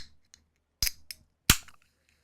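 Two sharp cracks of a sparkling water can being opened, each with a brief fizzy hiss trailing after, close and crisp against a quiet room with a few faint clicks.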